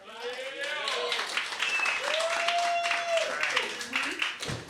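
Steady applause and clapping from a comedy show audience welcoming the next stand-up comedian, lasting throughout and partly mixed with cheering voices and an announcer speaking.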